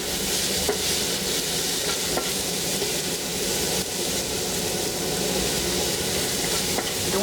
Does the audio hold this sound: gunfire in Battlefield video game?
no